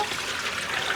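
Water pours and splashes steadily into a container for dyeing cashmere yarn, a close continuous rushing flow with no voices.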